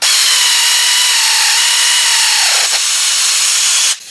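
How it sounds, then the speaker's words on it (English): An air ratchet tightens bolts on a Tremec T56 Magnum six-speed transmission, giving a loud, steady high-pitched pneumatic whine that dips in pitch as a bolt seats, then breaks off abruptly near the end. "I'm going to go ahead and use my air ratchet on this to speed things up"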